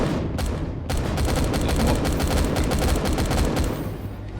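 Automated turrets and sentry guns in the space survival game Empyrion Galactic Survival fire dense, rapid bursts of shots for several seconds, loud and continuous with no talking.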